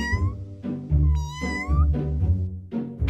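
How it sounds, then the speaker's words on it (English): A cat meows repeatedly in the Roblox Adopt Me game, several clear, close, high-pitched meows in quick succession over a low rumbling game background. "Like that poor sweet kitty cat stuck up in the tree over there?"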